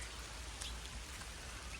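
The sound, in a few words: rain falling in the morning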